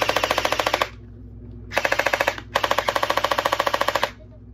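An Aphronod MP5 gel blaster fired dry with no ammunition, three bursts of rapid, evenly paced mechanical clacks with a steady motor whir, close and loud, separated by short pauses and a constant low hum.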